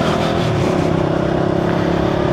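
Several motorbikes rev and pull away together from Sannyasitala, a dense, steady engine roar, loud and close throughout.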